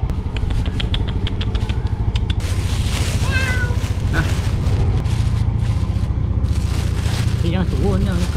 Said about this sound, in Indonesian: Ada lagi kucing.